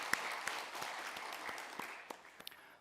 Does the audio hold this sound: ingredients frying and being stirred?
no